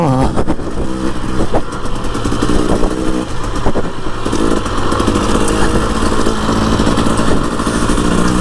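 A Husqvarna TE300i enduro motorcycle ridden along a trail on the Sarn Helen route, its two-stroke engine buzzing loudly and steadily throughout with rapid throttle changes and revs, close and continuous with no talk.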